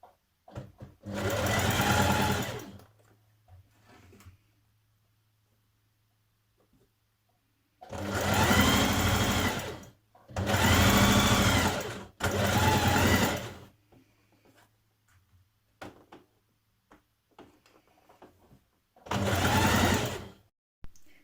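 A sewing machine basts a summer dress seam in four close bursts of steady, whirring stitching, each a few seconds long with quiet gaps between, loud and alone.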